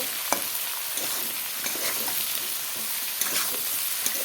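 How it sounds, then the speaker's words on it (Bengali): Eggplant frying in fish oil after potatoes, a dense continuous sizzle close up with small bursts of crackle and light stirring scrapes, no voices. "মাছের তেল দিয়ে আর বেগুন দিয়ে ভাজা করব"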